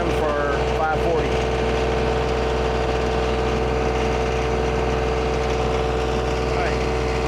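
The engine of a TYM 2515 25 hp tractor runs steadily at full RPM, a loud, constant drone with a strong low hum that stays close and unchanging, and a few faint squeaks near the start.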